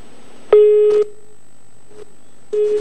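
A telephone busy tone sounds after a disconnected call during a breaking-news phone report: a loud, flat beep, a pause, then another beep starting, each tone steady and electronic, with no voices.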